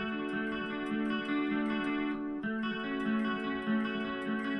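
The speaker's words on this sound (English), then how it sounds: "That's when you switch to your distortion, whatever distortion sound it may be." A distorted electric guitar plays sustained, buzzing chords and notes with a thick, gritty tone, moderately quiet and unaccompanied.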